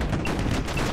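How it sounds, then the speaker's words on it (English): Gatling guns on a steampunk airship fire in a 2D video game battle, a second of dense, rapid, loud gunfire bursts with no talking. "The Gatling guns."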